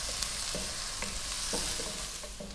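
Garlic and ginger sauté in a pan with a close, steady sizzle. Quick scraping strokes of a stirring utensil mark the sizzle about every half second.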